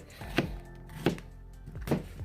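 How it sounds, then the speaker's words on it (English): Three firm knife chops through potatoes on a cutting board, spaced roughly evenly, each a sharp thunk over a low room hum. "Chop up the potatoes next."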